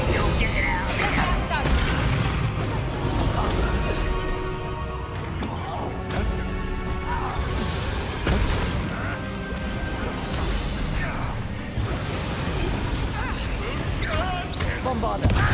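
Bombarda blasting spells exploding in the video game Hogwarts Legacy: heavy booms and crashing debris that roll on without a break through a chaotic battle, loud and close, with voices shouting now and then.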